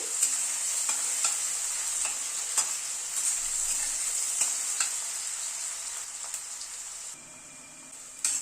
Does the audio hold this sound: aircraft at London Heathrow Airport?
no